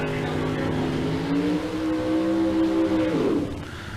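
Race engines of a dragster and a Camaro at a bracket drag race at Tucson Dragway, a loud sustained roar with rising tonal whine through most of the run, easing off near the end.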